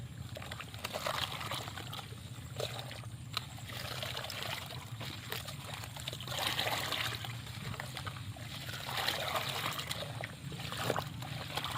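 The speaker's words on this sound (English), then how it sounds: "Then add the crushed charcoal and stir everything thoroughly." Smashed potato pieces and crushed charcoal are stirred in a bucket of water, giving a continuous sloshing and splashing that swells and eases as the mixture is churned.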